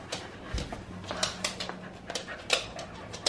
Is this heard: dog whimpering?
yes